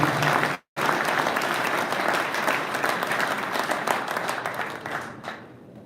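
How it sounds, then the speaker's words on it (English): An audience claps for Dwayne at a kayak bass fishing national championship awards event, a dense sustained round of applause with one brief break early on, fading out at the close. "let's give Dwayne a big round of applause"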